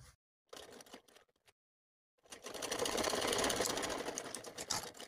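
An electric sewing machine stitches a fabric strip onto a suit: two short bursts of stitching separated by pauses, then a steady, close, continuous run of rapid needle clatter with no talk.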